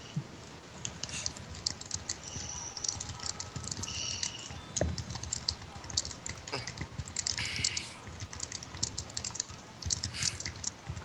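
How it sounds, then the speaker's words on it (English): Rapid typing on a computer keyboard, a steady patter of soft clicks running for about eleven seconds, fairly close and without speech. "Who's typing?"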